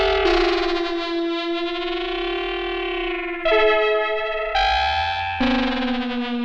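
A Donner Medo synthesizer plays a sustained lead line with distortion, chorus and echo effects, the pitch stepping between long held notes, loud and alone.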